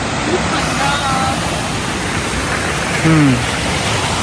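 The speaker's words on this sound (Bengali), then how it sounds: "এটা কিন্তু ঝাড়খণ্ডের সব থেকে বড় জলপ্রপাত" A broad, constant roar of Jharkhand's largest waterfall, near Netarhat, fills the scene, loud and unbroken, with brief faint voices and a whistle-like tone over it.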